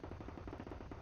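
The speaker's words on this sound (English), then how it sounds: "My next best bet is my big ol' cannon." Rapid repeated heavy gunfire booms in the Eastern Front World War II video game Gates of Hell, a dense rhythmic volley filling a short burst.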